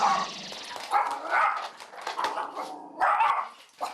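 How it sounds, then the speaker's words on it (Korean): A miniature pinscher barks in sharp, close bursts indoors, several loud yaps spaced through a few seconds as it reacts to a trainer moving nearby. "그런데 강훈련사가 가까이 움직이자 갑자기 짖기 시작하는 짱이."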